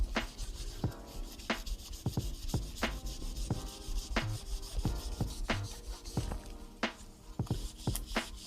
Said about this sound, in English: I basically coat the whole handle in oil, work it in, and I take one of these kind of like micro polishing type jewelry cloths